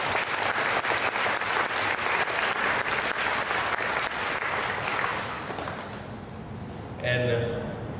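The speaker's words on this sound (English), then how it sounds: "we need to give a great applause to the maker of it" An audience gives a sustained round of applause for the builder of a record-setting floating Christmas crib at a Malaysian event. The dense clapping holds steady, then thins and fades, with a brief voice near the end.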